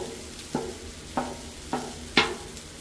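Spanish rice sizzles on a hot Blackstone griddle while a spatula scrapes and stirs it in four evenly spaced strokes.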